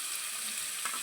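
Green chilli, potatoes and carrots frying in ghee make a continuous gentle sizzle, with a brief stirring scrape toward the end and no talking.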